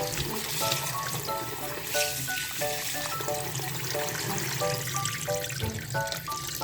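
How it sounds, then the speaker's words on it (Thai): Chicken skin is washed with salt and tapioca starch in water, giving a continuous close trickle and splash of running water over a faint tonal background. "ล้างทำความสะอาดนะคะ โดยการใช้เกลือนะคะ แล้วก็แป้งมันนะคะ"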